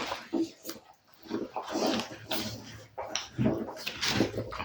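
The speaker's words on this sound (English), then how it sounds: "Why the dogs have to come and wash themselves near me" Dogs licking and washing themselves close by indoors, giving wet, smacking lapping sounds in irregular bursts with snuffling, fairly near and moderately loud, with no speech.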